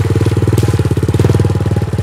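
A Kayo 250 T4 dirt bike engine rumbles loudly up close in a steady, fast-pulsing run with slight rises in revs and no voices.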